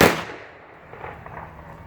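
A ceremonial rifle volley at a wreath-laying memorial for fallen Vietnamese and American soldiers: one sharp, loud simultaneous crack from a firing detail that quickly decays, leaving a faint reverberant tail and ambient outdoor noise.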